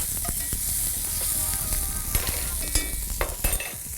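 Garlic frying in a hot pan for a venison puttanesca gives a steady, close sizzle with light scraping and stirring clicks scattered throughout, and no talking.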